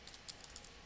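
Light keystrokes on a computer keyboard as a bookmark name is typed in Word 2013, a handful of quiet, irregular clicks over faint room hiss.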